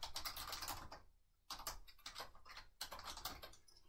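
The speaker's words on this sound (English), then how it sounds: "here I'm going to type in my work email address." Typing on a computer keyboard while entering a work email address in an office setting: rapid, dense keystroke clatter with a brief pause in the middle, close and fairly quiet, no talking.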